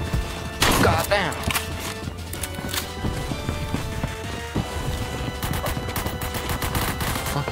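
Gunfire in the Phantom Forces shooter game: quick bursts of sharp shots and clattering impacts over constant game noise, loud and close.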